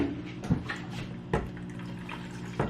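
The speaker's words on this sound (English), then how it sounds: "Probably help if I added some water, eh?" Water pours briefly from a tap into a blender for a kale smoothie, in a home kitchen, with a few short splashy bursts over faint background hum.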